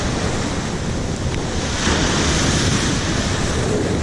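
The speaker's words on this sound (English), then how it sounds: "This is just a windy day." Strong wind blows across a beach with ocean surf rolling steadily underneath, a continuous broadband roar that swells a little louder partway through, with no voices.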